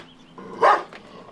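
Dog barking at an animal rescue site, a single sharp close bark rising out of quiet background noise, with a faint whimper-like sound before it.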